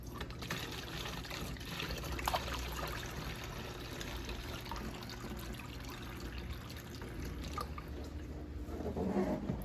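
Steady purified bottled water pouring and trickling into a container, continuous and fairly quiet, with no talking.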